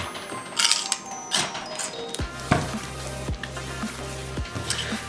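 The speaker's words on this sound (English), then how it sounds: "Yeah, more celery. Got it, may as well cut it up." A knife chops celery for chili on a cutting board, giving a series of crisp irregular knocks and crunches close up in a kitchen, with no talk.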